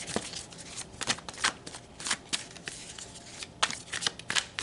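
Tarot cards being shuffled by hand, a steady run of crisp riffling flutters and soft slaps, close and fairly quiet, with no talking.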